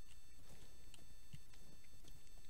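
Hooves clip-clop rapidly and evenly as a horse gallops in the Minecraft video game, a quiet, close patter with no talk over it.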